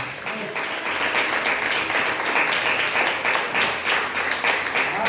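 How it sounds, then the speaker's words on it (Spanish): A church congregation gives sustained applause and clapping for the King during a worship service, a dense continuous wash of hands filling the room throughout. "Aplausos al Rey."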